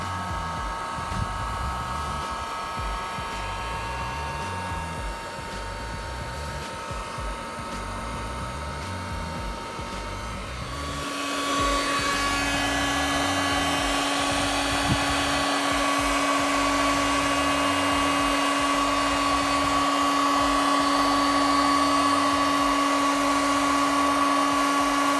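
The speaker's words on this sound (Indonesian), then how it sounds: "pakai heat gun aja, pakai yang metode low gitu" A heat gun on its low setting, used on a sanded crack while repairing a kayak, gives a steady, loud blowing whir throughout, shifting to a slightly different droning tone partway through and holding constant.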